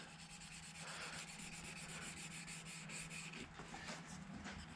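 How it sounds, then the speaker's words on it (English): A Scotch-Brite scourer pad lightly polishes a metal door part from a Toyota Land Cruiser FJ40 rebuild. It makes a steady, close, continuous rubbing hiss with no pauses and no voices. "give it a bit of a polish with some bit of a Scotch-Brite pad or a little scourer pad, just nice and lightly"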